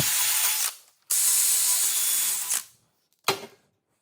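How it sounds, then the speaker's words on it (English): A wire wheel scours a car's lower control arm during a bushing replacement: two long, loud, harsh grinding bursts, then a short final burst, with brief silences between. "Give it a quick spritz up with a wire wheel and push a new push on."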